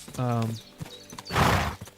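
A horse in the video game Kingdom Come Deliverance snorts and whinnies up close, followed by a loud breathy blow and a few hoof clops, all fairly loud against a quiet background.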